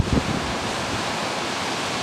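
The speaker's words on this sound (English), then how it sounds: "You can hear all the waves." Ocean waves wash against the coastline at a camping spot, a broad, continuous roar of surf with a brief rumble at the start, heard alone without talk.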